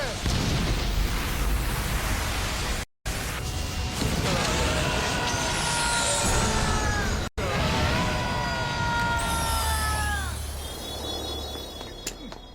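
A loud, sustained Darkus energy blast from Bakugan: Battle Planet roars with rising and falling electronic whooshes, briefly cut off twice, fading into shimmering tones.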